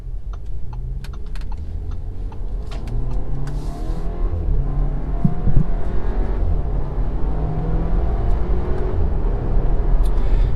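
A 2018 Audi Q5 accelerating hard from inside the cabin, its engine drone rising steadily with quick dual-clutch gear changes, loud and continuous with faint clicks over it.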